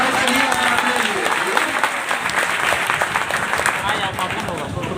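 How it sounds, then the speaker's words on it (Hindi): Enthusiastic audience applause welcomes a guest at a stage event in Bihar, a dense, steady wash of many clapping hands sustained loudly for the whole stretch. "एक जोरदार तालियों से स्वागत करेंगे सर का लिए"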